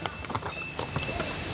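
Horses' hooves clip-clop on the Kedarnath pilgrimage trail, with irregular close knocks over crowd murmur and faint voices in the background.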